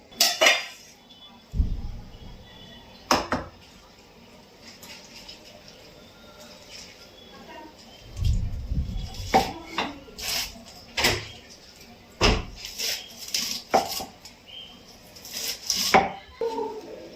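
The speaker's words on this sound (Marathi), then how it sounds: "आता मी हिला चिरून घेते" A knife chops vegetables in a home kitchen, with irregular clacks and knocks on a board alongside clinking utensils and dish sounds, spread out in bursts with quieter pauses.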